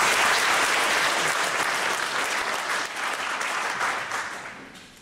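An audience at a Border Patrol public forum breaks into sustained applause, a steady, full wash of many hands clapping that tapers slightly near the close.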